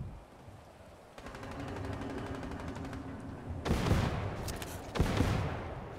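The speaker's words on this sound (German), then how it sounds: "Wo kommen die Schüsse her?" Gunfire in Fortnite: a sustained rattle of rapid shots runs through the middle, broken by two louder, sharper bursts near the end, moderately distant and with no talk.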